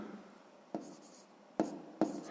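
Pen writing fractions in a sixth-grade math exercise, faint close scratching strokes with three sharp taps or marks spaced across a short, quiet stretch.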